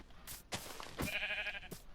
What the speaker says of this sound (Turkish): Koyun buldum hemen.